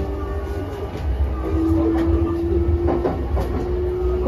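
A JR E233-5000 series local train on the Keiyo Line runs between Kaihin-Makuhari and Shin-Narashino, giving a steady loud rumble with a sustained motor whine and rhythmic wheel clicks, recorded from inside the car.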